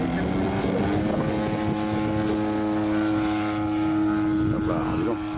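A German model motor glider powered by a 72 DZ engine flies at a competition, its engine holding a steady, droning whine throughout, with faint voices and wind noise in the background.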